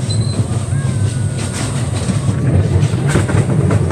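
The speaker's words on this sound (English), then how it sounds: "You see the train pass through." A train passing through McCormick-Stillman Railroad Park rumbles steadily with a low, continuous roll and faint wheel squeals, nearby and fairly loud throughout.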